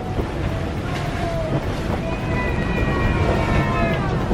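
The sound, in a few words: strong wind while sailing, about 30 knots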